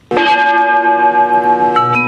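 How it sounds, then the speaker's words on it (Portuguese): Recorded church bell in a town's main church tolls loudly, one long sustained ring with rich humming overtones, alone and close, with a second strike starting near the end. "é apenas uma gravação que imita o barulho de um sino"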